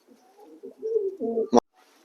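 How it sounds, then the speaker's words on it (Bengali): Pink satin pigeons offered for sale coo in a run of soft, throaty, rising and falling phrases, close and clear, ending in a sudden sharp rustle or flap before a quiet pause. "এই পায়রা সেলের জন্য আছে দেখুন"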